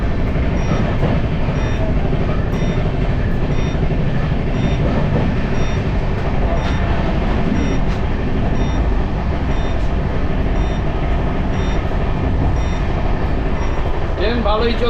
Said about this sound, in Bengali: ট্রেন একদম দুরন্ত গতিতে চলছে কিন্তু